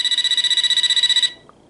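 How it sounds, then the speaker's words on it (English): A vintage 1989 AT&T 4200 cordless phone rings loud and close with an incoming call, a rapid pulsing electronic trill lasting about a second before stopping, followed by a faint click. "That's a phone call."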